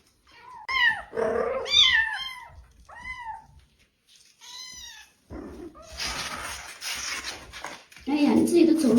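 A limping stray mother cat deals with her two lively kittens, giving a string of high, bending meows and mews close by, then a quiet gap and a burst of rustling and scuffling noise.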